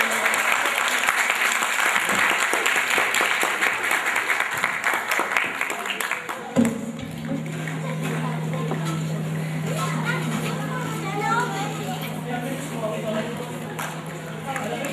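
An audience at a student film and certificate ceremony breaks into loud, dense applause that continues throughout, with a sustained tone entering partway and faint voices underneath.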